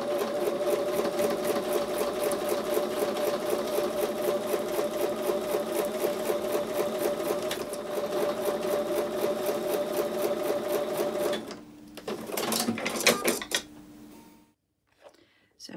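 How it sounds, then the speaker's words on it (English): A sewing machine stitches fabric with a 1/4-inch seam, running steadily with a fast, rhythmic mechanical whir for several seconds, then slows, stutters in short bursts and stops. "I'm going to take those over to the sewing machine and sew with a 1/4-inch seam"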